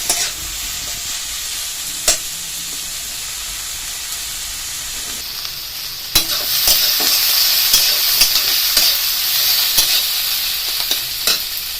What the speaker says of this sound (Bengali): নাড়াচাড়া করে লাল লাল করে এগুলোকে ভেজে নিতে হবে।